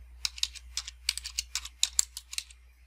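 Keystrokes on a computer keyboard while entering a closing date in QuickBooks Online accounting software, a quick irregular run of crisp clicks at close range with no talking.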